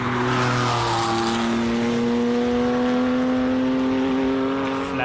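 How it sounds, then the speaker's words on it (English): A Porsche flat-six RSR race car accelerates up a hillclimb course, its loud, steady engine note climbing smoothly in pitch with a sustained harmonic howl and no talking. "Flat 6 sound going up the hill."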